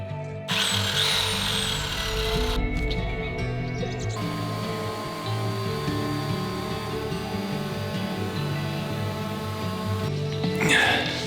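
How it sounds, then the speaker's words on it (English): A power tool bites into plywood being cut for a Renault Master van floor, with several loud bursts of whining motor and cutting noise separated by short pauses, heard close up. "The last step is cutting pieces of plywood that will go on top of the insulation."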